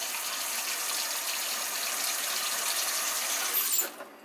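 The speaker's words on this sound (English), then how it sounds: "I try to let the stream of water hit the bag while it's running" Steady tap water runs hard into a sink over a frozen bag of breast milk, a loud continuous hiss-rush that cuts off abruptly near the end.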